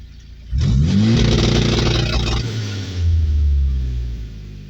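A turbocharged Toyota 3RZ engine on a Haltech Elite 1500 with anti-lag launch control, close and loud: it revs sharply, holds a rough, crackling note at the limiter for a couple of seconds, then eases and drops back.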